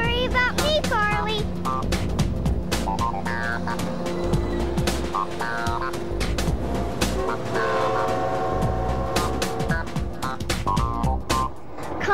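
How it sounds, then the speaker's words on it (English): Toy-scale train rolls along with a rhythmic clatter and repeated horn or whistle blasts, while excited voices shout over it. "Stop that train!"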